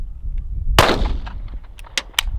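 An HK P7M13 pistol fired by squeezing the grip cocker, one sharp loud shot with a decaying echo, followed by a few faint clicks and small handling sounds.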